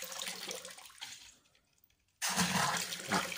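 Water released through a small valve from an underfloor heating loop into a bucket: a rushing, splashing pour that thins out and nearly stops, then bursts back on strongly and keeps flowing, close by with no talk.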